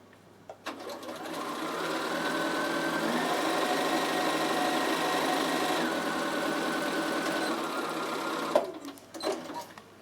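A Bernina sewing machine stitches a seam with a steady, fast, even whirr that runs close and clear for several seconds before stopping, followed by a few brief handling clicks.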